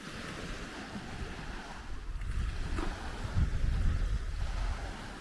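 Waves wash onto a beach at high tide on a grim, overcast day, a steady broad rushing surge with some wind. The sound swells slightly louder toward the end, with no voices.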